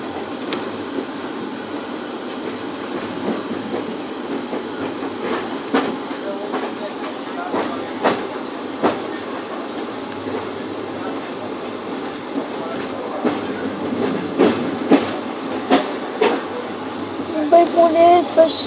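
Express train on the Lonavala–Kalyan line through the Western Ghats, a steady loud rumble of rolling wheels with periodic clacks and rattles, growing busier toward the end; voices may be faintly present under the train noise.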